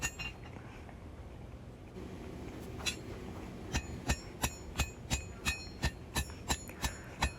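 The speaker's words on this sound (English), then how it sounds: "That hammer seems to be moving steel pretty good." A power hammer's blows on hot steel while forging a large knife blade, a steady rapid series of sharp ringing strikes building up after a quieter stretch of workshop noise.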